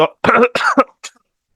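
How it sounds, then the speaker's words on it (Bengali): A person coughs several times in quick succession during a lecture, close and loud, with a short throat-clearing burst after a brief pause and no talk. "ওর একটু কাশি আসছে"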